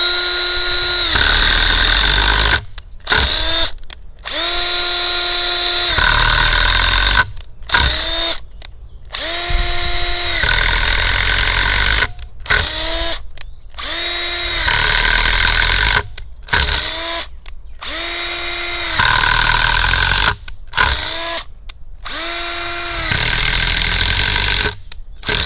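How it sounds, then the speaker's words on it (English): A power drill bores holes into a log for mushroom growing, whining loudly in repeated bursts with short pauses as each hole is drilled. "So we're going to start the drill before we hit the log."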